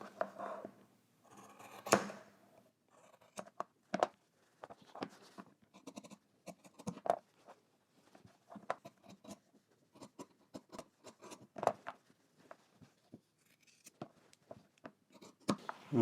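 Scissors trimming the fabric corners of a sewn polo shirt, a quiet close series of irregular snips with brief pauses and soft cloth rustling.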